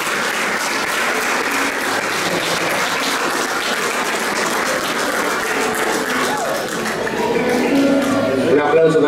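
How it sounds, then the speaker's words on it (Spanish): A crowd at a 50th-anniversary celebration of a 1974 championship gives a strong round of applause for an honoree, with sustained clapping throughout and voices talking over it in the background. "un fuerte aplauso para Jorge Hernández."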